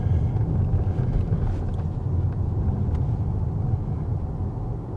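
Strong wind on the Isle of Luing, a loud, constant buffeting roar with heavy low rumble that never lets up, along single-track country roads.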